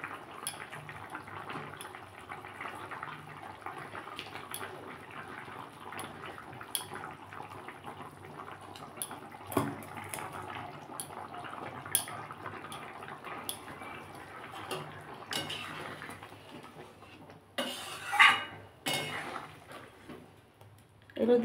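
Green jackfruit kopta curry with potatoes simmering in a pot, with soft irregular bubbling pops and ticks over a low steady background and a person talking at times.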